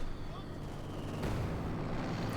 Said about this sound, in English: Heavy mortars keep hammering away there.